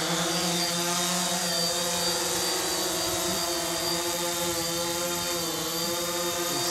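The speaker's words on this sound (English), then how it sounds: "You have to press these sticks like this to arm the quadcopter, and move." Cheerson CX-22 quadcopter arming and lifting off outdoors, its propellers giving a loud, steady, close whine with layered harmonic drone that holds throughout.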